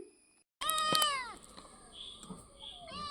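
A kitten lets out one loud, drawn-out meow up close, followed by a few softer rustles and small sounds.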